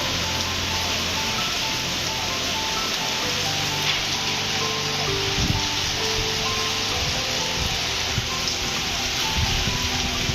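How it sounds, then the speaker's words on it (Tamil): Heavy rain pours down steadily during Cyclone Fengal in Ranipet district, a constant broadband hiss with no pauses and no talking. "ராணிப்பேட்டை மாவட்டத்தில் தொடர்ந்து இடைவிடாத கனமழை பெய்தது"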